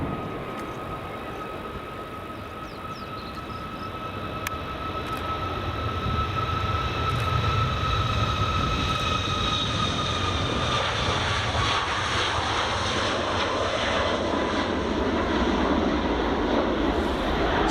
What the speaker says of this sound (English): Good old Gulf Air. That was a flight from Dhaka, Bangladesh